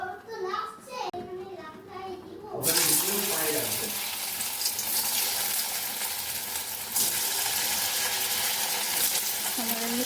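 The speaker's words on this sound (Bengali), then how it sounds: "মোমোগুলোকে এখন একটু ফ্রাই করে নিই চলো" Momos hit hot oil in a pan and break into a loud, steady frying sizzle that continues to the end, after a short stretch of talk at the start.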